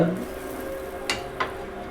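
Butter sizzles on a hot tava griddle while burger buns are warmed, a steady soft frying hiss with two brief sharper clinks of a utensil against the pan.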